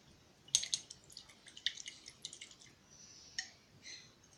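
Faint small water drips and splashes as a paintbrush is rinsed, a series of soft irregular plinks and swishes close by, with quiet pauses between them.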